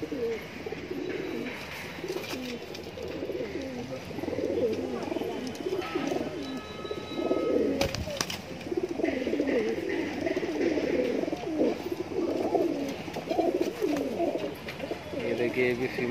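Border high-flyer pigeons for sale, male and female birds mixed together, coo in a steady layered murmur through the whole stretch, close by and fairly full, with faint bird chirps above.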